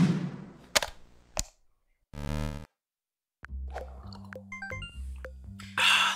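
Retro Pico-8 shoot-'em-up game effects: sharp chiptune explosion bursts and blips, several separate pops and zaps spaced with short silences, ending in a noisy crackling blast.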